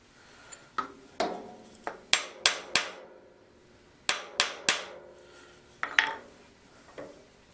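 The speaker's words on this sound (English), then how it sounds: "First thing I'm going to do is clamp the stock in the vise." Metal stock is clamped in a machinist's vise, with a series of sharp metallic clanks and taps in irregular clusters, close and moderately loud in a quiet shop.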